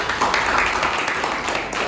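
A classroom audience at a math micro-teaching session gives a short burst of scattered hand clapping, moderately loud and continuous, with some voices mixed in.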